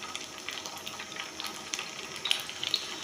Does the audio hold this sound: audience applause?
no